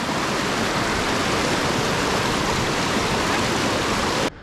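A river rushes loudly and steadily as it is crossed on foot in an Indian village, a dense close wash of flowing water that cuts off abruptly at the end.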